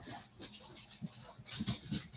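Several dogs get up and move toward a door indoors, with faint, scattered paw patter, light shuffling and a few soft whimpers at close range.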